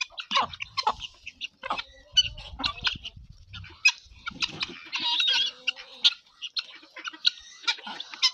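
Guinea fowl and other farmyard poultry call in bright spring weather, several males among them, giving repeated harsh, chattering cries and clucks in uneven bursts, fairly close.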